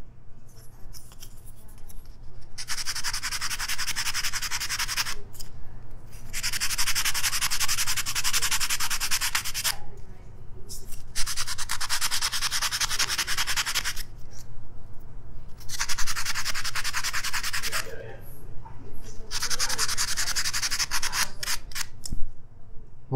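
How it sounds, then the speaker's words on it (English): Sandpaper rubs against a wooden spoon in repeated long, scratchy strokes, bursts of several seconds separated by short pauses, close and steady. "And now I'm gonna grab my finer grit sandpaper and do some finished sanding on the spoon."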